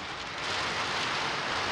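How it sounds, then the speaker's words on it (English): Heavy rain pours steadily in a continuous broadband hiss, with water flooding across the ground, loud and close throughout with no talking. "It's raining so much that water is coming from the floor across the ground."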